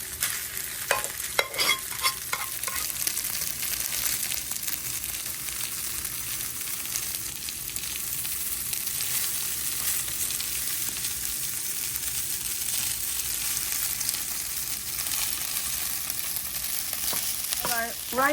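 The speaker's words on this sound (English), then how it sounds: "rice is frying" Fried rice sizzles and fries in a big pot on a grill, a steady close crackling hiss throughout with occasional scraping stirs at the start and end.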